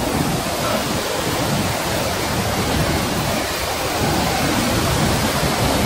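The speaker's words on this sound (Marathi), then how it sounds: "सोमेश्वर वॉटरफॉल. पाणी चालू आहे." Water cascades at Someshwar waterfall near Nashik, a dense, continuous roar that holds steady and loud throughout, with no voices over it.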